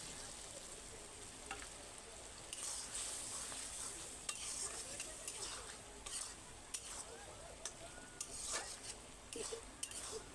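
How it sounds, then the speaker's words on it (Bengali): Prawns go into simmering gravy in a home kitchen pot, with a faint, continuous bubbling sizzle broken by several sharp clicks and scrapes of a utensil against the pot. "এখন মাছগুলি সব দিয়ে দিব।"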